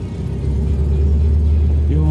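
Volkswagen Fusca (Beetle) engine idling near a home garage, a steady low rumble with a rising rev toward the end, loud and close.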